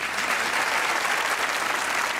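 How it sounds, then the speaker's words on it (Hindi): A TV studio audience claps loudly and evenly, a thick continuous wash of applause with no pauses. "हैं तो तालियां बजाएं।"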